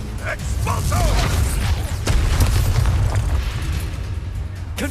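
A spell blast in the Hogwarts Legacy video game, rolling as a loud, rumbling burst with mechanical creaks and sharp transient hits under a sustained low-end roar, with a faint voice briefly present.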